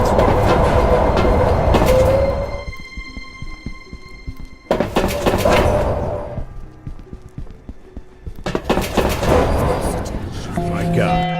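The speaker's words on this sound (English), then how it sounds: "I had boarded a train to East End." A train rides the rails in a mystery video game, its rumbling clatter rising and falling in three loud bursts separated by quieter stretches with lingering tonal hums and a thumping rhythm.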